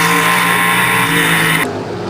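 Race cars roar at Baer Field Speedway during an ARCA/CRA Super Series race, a loud sustained engine drone with harmonic whine that cuts off sharply near the end as a car passes close by.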